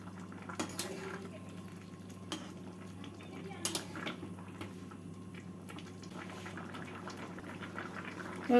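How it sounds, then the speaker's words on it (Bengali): A spoon works through a simmering pot of mixed vegetable curry with drumsticks and lentil dumplings, thickened with rice flour, giving quiet steady bubbling with intermittent scrapes and clinks against the pot. "আর ভালো করে সবজির সাথে মিশিয়ে নেব"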